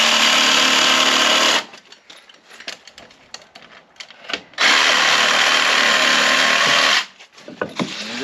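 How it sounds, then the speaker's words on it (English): A jigsaw cuts through a wooden rafter board in two loud, close buzzing bursts, with clattering and handling noises in the pause between them. "Again, I could continue my skill saw up and complete this cut, but it kind of weakens the board, so I like to use a jigsaw."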